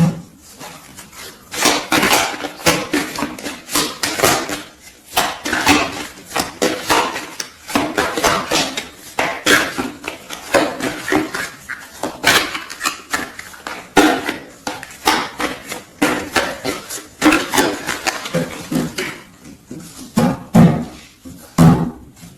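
A deck of oracle cards is shuffled and cut close up, a steady run of crisp slapping and riffling card noises in rapid irregular bursts, fairly loud and continuous with no voices.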